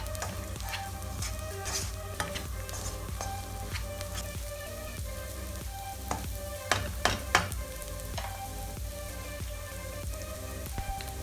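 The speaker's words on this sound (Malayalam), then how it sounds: "മുട്ട ചേർത്തതിന് ശേഷം പിന്നെ ഒരു 2 മിനിറ്റ് നല്ലോണം ഒന്ന് മിക്സ് ചെയ്യാം." A spatula stirs beaten egg through a mixture in a pan over a low-medium flame for a pappadam and egg dish. A steady, close sizzle runs throughout, with scraping and clicking strokes and a few sharper knocks near the end.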